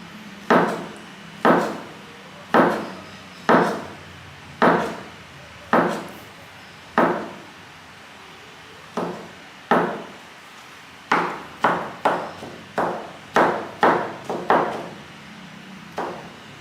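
Pineapple being roughly chopped with a knife on a wooden board for a marinade: a long run of close, crisp thuds, steady at first, then quicker and more irregular clusters, with no voices.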